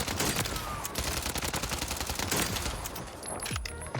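Rapid, sustained gunfire from a weapon in Call of Duty Warzone, loud and dense with continuous overlapping shots for the whole stretch and no talk.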